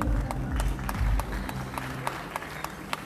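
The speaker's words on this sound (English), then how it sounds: "Can I have a huge round of applause, everybody?" An audience at a bodybuilding federation award ceremony claps steadily, with dense applause that fades gradually into scattered claps, heard at moderate distance with a faint murmur of crowd noise.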